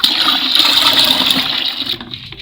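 Homemade liquid soap mixture poured from a container in a loud rushing, gurgling stream that runs for about two seconds and then cuts off.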